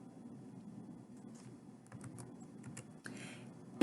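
Light computer keyboard typing in a spreadsheet, a few soft scattered keystrokes close by over a low room hum, with no one talking.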